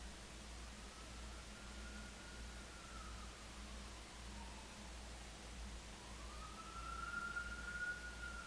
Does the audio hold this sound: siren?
yes